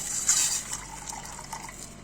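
Half a cup of water poured into a vinegar-based koshari sauce, a steady close liquid splash and trickle lasting about two seconds with no talk.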